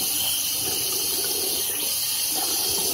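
Water runs steadily from a tap in a continuous splashing hiss, close and unbroken, with no talking.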